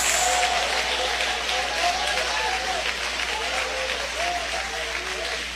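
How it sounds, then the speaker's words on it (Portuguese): A Pentecostal church congregation claps while shouting praise, with scattered voices calling out over the steady applause and the sound slowly fading toward the end. "palmas misturado com glória a Deus"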